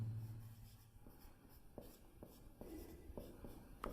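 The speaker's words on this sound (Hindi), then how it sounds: "यहाँ लिख दे रहा हूँ" A pen scratches on paper in short strokes and taps during a maths lesson, close and fairly quiet, with no voices.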